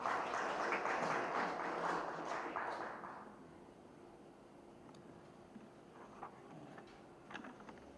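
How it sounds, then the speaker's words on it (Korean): Applause from an audience at a farmers' association briefing meeting fills the opening seconds, a soft scattered clapping that fades out by the middle, leaving faint room noise. "큰 박수 좀 부탁드리겠습니다."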